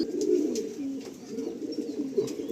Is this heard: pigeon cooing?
yes